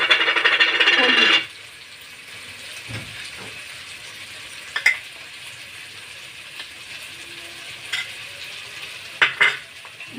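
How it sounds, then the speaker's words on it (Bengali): Spice paste and chopped tomato frying and being stirred in a pan, with a loud sizzling burst at the start that drops to a quieter simmer broken by scattered scraping clicks of the spoon. "এবার নাড়তে থাকবো।"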